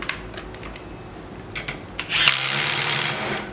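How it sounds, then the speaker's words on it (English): An electric screwdriver tightens a new nut onto a bolt during web hoist belt maintenance: a few light taps and clicks, then a short loud whirring burst of the driver up close. "you use a new nut here, and you use again electric driver"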